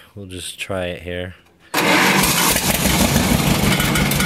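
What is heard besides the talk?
Allis Chalmers 433 diesel engine starting on a John Deere 420C dozer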